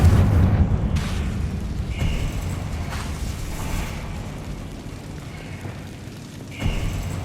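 A Confringo blasting spell erupts in Hogwarts Legacy, producing deep booming blasts with rumbling low-end tails, including a heavy hit at the start and another near the end, loud and close.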